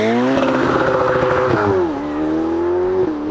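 A Novitec-tuned Ferrari 488 Pista with a 3.9-litre twin-turbocharged V8 revs hard and loud up close, its engine note climbing steeply, dropping briefly at a gear change, then holding a high steady drone.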